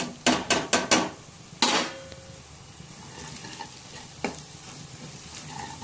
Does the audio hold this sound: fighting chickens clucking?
no